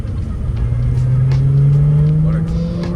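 A 1994 Toyota Supra revving its engine, one rising then sustained loud rev heard close up, with a person speaking briefly over it.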